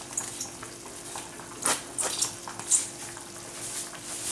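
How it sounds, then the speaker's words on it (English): Turkey pepper soup stirred in a pot, with a soft continuous scraping and swishing and a few louder stirring strokes close by; no one speaks. "I stir it very well"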